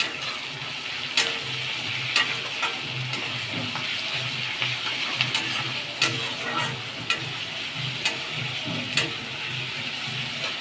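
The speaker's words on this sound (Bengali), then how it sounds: "পেঁয়াজটা লাল লাল করে ভাজতে হবে।" Sliced onions with a bay leaf sizzle in hot oil in a pan, a continuous close fry broken by regular scraping stirs and clacks of a spatula every second or so, with no voices.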